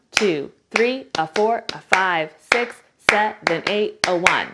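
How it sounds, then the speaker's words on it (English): Crisp hand claps beat out a single buck tap time step rhythm, each one landing with a voice that counts the beats aloud in a quick, uneven pattern. "Clapping, it sounds like this."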